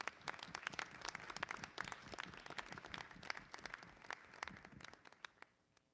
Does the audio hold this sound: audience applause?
yes